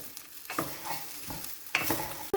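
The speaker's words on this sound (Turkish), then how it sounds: "Sebzeler kavrulmaya devam ederken" Vegetables sautéing in a soup pot give a steady low sizzle, broken by several sharp scrapes and knocks of stirring, with a louder clank near the end; no one speaks.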